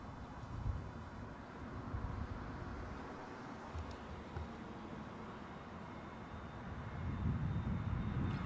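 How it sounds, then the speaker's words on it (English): An Aer Lingus A321neo airliner from Shannon, seen at London Heathrow, gives off a steady broadband jet engine roar at a moderate distance. The roar swells slightly toward the end, with no speech over it. "the plane that's about to squirt behind the bushes is an Aer Lingus 321 Neo from Dublin"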